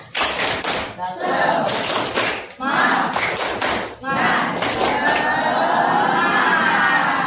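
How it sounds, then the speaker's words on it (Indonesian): A classroom of pupils performs a patterned spirit clap, bursts of rhythmic clapping with shouted voices between them, loud and close, ending in sustained group cheering. "Tepuk semangat."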